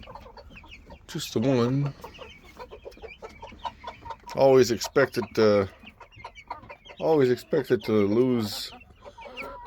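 Young meat chickens on a homestead cluck in short bursts close by, with a voice talking over and between the calls.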